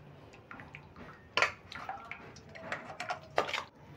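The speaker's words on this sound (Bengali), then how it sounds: "এই জলটা আমি ফেলে দেবো" Water is tipped out of a kitchen pan, with splashes and pours in uneven bursts and a couple of louder gushes near the end.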